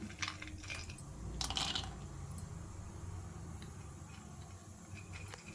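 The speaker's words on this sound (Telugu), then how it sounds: "ఇప్పుడు ఇందులో జీడిపప్పు బాదం" Cashews and almonds dropping into a pan for Telugu pesara pappu bellam pongal, giving a few brief clattering taps and rattles near the start over a steady low kitchen hum, then fading into quiet background noise.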